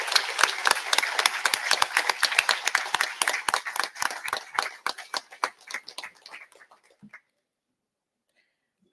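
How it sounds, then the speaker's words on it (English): Applause for award nominees at a volunteer awards ceremony: a crowd claps steadily, fairly loud and close, then thins out and stops near the seven-second mark, leaving silence. "So a big round of applause, please, for all the nominees in this category."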